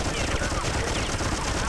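Slig enemies firing guns in Oddworld: Munch's Oddysee, a dense, continuous burst of rapid game gunfire that fills the whole moment at a loud, steady level.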